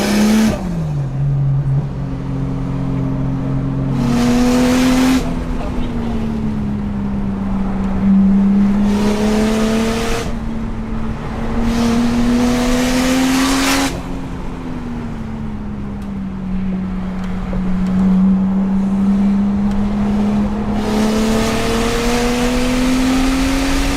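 A Toyota Chaser driven hard on a winding mountain touge road, its engine revving loud and close, pitch climbing through each gear then dropping on shifts, repeated pulls with no talk.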